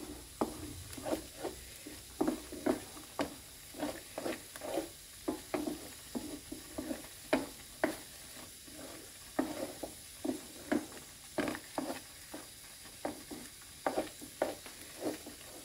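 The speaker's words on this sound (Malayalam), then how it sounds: "പാനി നന്നായിട്ട് വറ്റി വരുന്നത് വരെ നമുക്കൊന്ന് ഇളക്കിയെടുക്കാം." A spoon stirs banana halva with jaggery syrup in a pan as the syrup cooks down, in steady rhythmic scraping strokes about once a second over a soft sizzle, close and clear.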